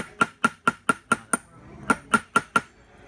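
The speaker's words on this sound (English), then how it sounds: "I'm just going to hammer down." Hammer striking a metal pendant, six quick ringing blows, a short pause, then four more, close and crisp.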